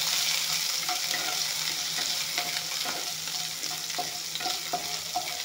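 Bay leaf, onion and five-spice sizzle steadily in a pan for fish curry, a continuous broad frying hiss with scattered faint clicks and stirring scrapes, with no voices present.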